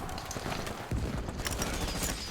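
Automatic rifle fire in Metro Exodus, a dense, steady rattle of rapid shots lasting the whole moment, loud and close with no talk over it.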